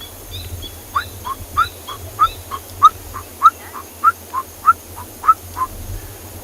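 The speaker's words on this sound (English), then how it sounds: "you can hear another francolin species, and that is the coqui francolin" A coqui francolin calls in the background of an evening safari in the Kalahari, a regular series of repeated two-note whistled phrases, moderately distant, over a low steady rumble.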